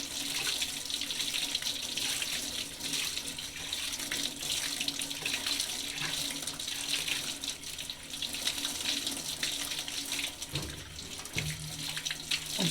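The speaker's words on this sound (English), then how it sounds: "I'm squeezing the paint out and running it through the water here, just trying to get the majority of the paint out" Tap water runs steadily into a sink while a paint roller is squeezed and rinsed under it, a continuous close hiss and splash with brief shifts in flow near the end.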